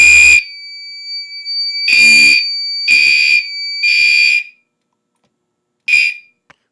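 A fire alarm system sounds during an alarm test with a loud, piercing electronic tone in repeated bursts of uneven length, separated by short silences, ending with a final short burst.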